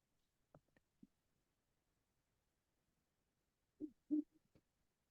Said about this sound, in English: a great horned owl hoot goes hoo, hoo, hoo, hoo, hoo.